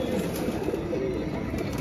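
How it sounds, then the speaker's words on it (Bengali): Pigeons, among them young Pakistani high flyers, coo in a low continuous murmur at Katakhali pigeon market in Rajshahi, a dense crowded bird drone with faint background noise. "নিচেও অনেক কবুতর আছে"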